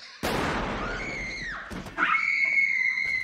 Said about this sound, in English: she will not stop screaming